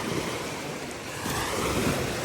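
Ocean waves surging and breaking continuously with steady wind noise, loud and close, no voices.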